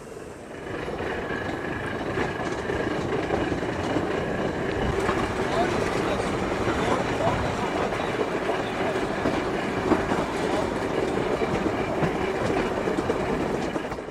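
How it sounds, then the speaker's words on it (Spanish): Narrow-gauge rack railway trains rumble past steadily with a continuous rolling clatter of wheels on track, loud and close, with faint voices underneath. "Una vez consumado el paso de los trenes"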